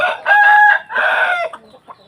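A rooster, a fighting cock, crows once up close, loud and clear. The call comes as two drawn-out strained phrases, then trails off into a few softer sounds.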